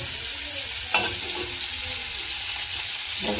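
Hilsa fish fries in hot oil with a constant close hiss and sizzle, broken by a few brief spattering pops, and nobody speaks.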